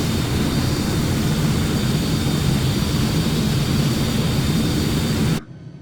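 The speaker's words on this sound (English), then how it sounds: "once the engines are running" Twin jet engines of a Tornado aircraft run steadily in Microsoft Flight Simulator, a loud continuous roar with a high whine on top, holding constant before cutting off abruptly near the end.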